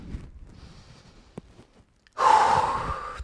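Sharp, forceful exhalation during an upper-body strength workout, a faint breath early on followed by a loud, sustained rush of air near the end, close to the mic.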